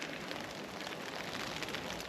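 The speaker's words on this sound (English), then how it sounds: "Nice little event in the pissing down rain." Heavy rain patters steadily on a tarp during a winter bushcraft camp in the UK, producing a dense, soft crackle of drops and a quiet constant hiss.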